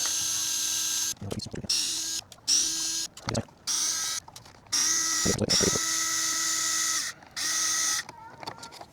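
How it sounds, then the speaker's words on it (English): A power drill removes screws from the rear bumper of a Mini LMT Grave Digger RC monster truck, with several sharp whining bursts of varying length separated by short pauses and brief clicks, close and loud. "for the back one, we're going to take out these 3 screws on each side"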